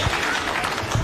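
Audience clapping at a funeral service in Kenya as a speaker takes the microphone, a brief steady patter of many hands with a voice over it.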